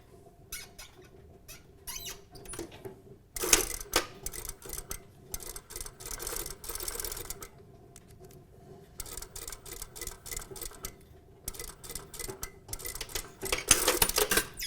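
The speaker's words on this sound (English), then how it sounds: "So we're going to stitch from this corner to that corner." Sewing machine stitching a seam from corner to corner, running in bursts of rapid mechanical clatter separated by short quiet pauses, with a close, busy ticking texture.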